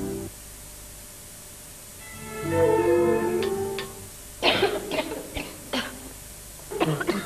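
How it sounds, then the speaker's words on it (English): Coughing from women with nasty tickly coughs in a 1991 TV advert: a short hoarse burst, then a run of dry, close coughs, over a faint steady background hiss. "both have nasty tickly coughs"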